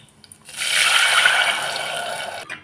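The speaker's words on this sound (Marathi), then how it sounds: "आता लगेचच त्यांना टाकतेस मी पाणी" Water is poured into a hot pot of crackling cumin seeds for jeera rice. It makes a steady close rush of liquid lasting about two seconds and then stops abruptly.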